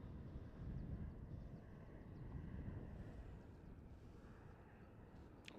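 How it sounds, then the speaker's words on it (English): An Air China Boeing 777-300 inbound from Beijing, heard at night near a runway: a low, faint, continuous jet rumble, distant and steady, with wind-like noise over the microphone. "there's the Air China 777-300 coming in all the way from Beijing to London Heathrow"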